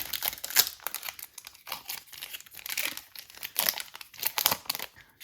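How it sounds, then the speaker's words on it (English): Crinkling, tearing foil of a 2020 Donruss Optic Football trading card pack being ripped open, a run of sharp papery crackles and rips in bursts close to the mic, with no talking. "This pack doesn't want to rip."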